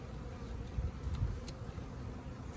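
A package of about 10,000 honey bees buzzing during installation into an Apimaye hive, a steady close hum of many wings with a few louder swells.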